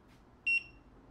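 A single short electronic beep from a digital multimeter, high and clean, sounding close in an otherwise quiet room.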